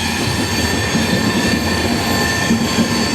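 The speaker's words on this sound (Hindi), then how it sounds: "यहाँ पे देखिए रायचूर जंक्शन की तरफ से कोई तो ट्रेन आगे बढ़ रही है" A passing train is heard from aboard the Mumbai-Hyderabad superfast express near Raichur Junction: a loud, constant rail roar with rumbling wheels and thin metallic squeals, close and continuous.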